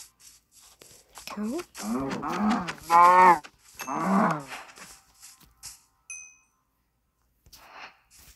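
Minecraft cow lowing in the game, several drawn-out moos close together near the start, followed by faint clinks and a quiet stretch.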